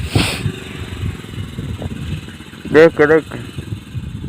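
A motorcycle is ridden across a small broken bridge, its engine a low, steady putter close by beneath several voices talking and calling out, with a brief louder shout near the end.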